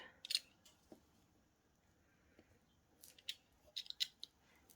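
Scissors snip around a circle cut from craft card, making faint, sparse clicks and crisp cuts in short bursts against a quiet background.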